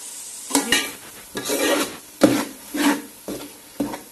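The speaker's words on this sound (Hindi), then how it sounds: "ये धनिया भी शामिल कर दें, अच्छी तरह से चम्मच चला रहे हैं" A spoon stirs chicken with chopped green chillies and coriander in a pan, making about seven close, scraping strokes in an uneven rhythm with a light sizzle between them and no talk.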